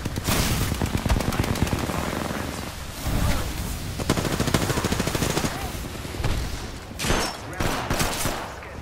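Apex Legends firefight: sustained automatic gunfire and volleys fill the scene, loud and continuous with brief lulls, layered with distant shots and faint game voices.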